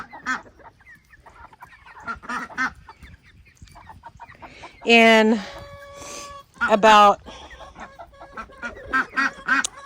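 Chickens and ducks call out near and loud, with honking, goose-like cries and clucking over a backdrop of softer chatter, while a person says a few words.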